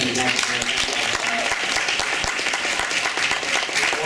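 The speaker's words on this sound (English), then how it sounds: "A round of applause for our panelists." An audience at a 2014 creative arts festival applauds its panelists, dense sustained clapping filling the room at steady loudness, with a voice faintly audible beneath.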